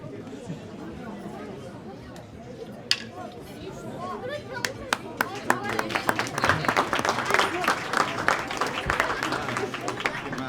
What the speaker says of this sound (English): A big round of applause for our amazing priests and for the beautiful children.